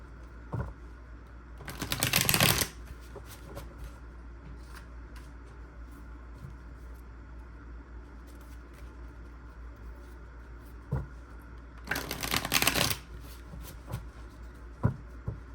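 Tarot cards are shuffled in two quick riffled bursts several seconds apart, with soft handling clicks and taps in between and no talking.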